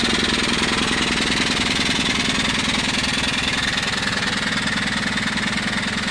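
A steam engine fitted with an American Swift oiler and half-inch pipe drives a dynamo, making a steady rapid mechanical chugging and hum at even speed, close and continuous with no voices.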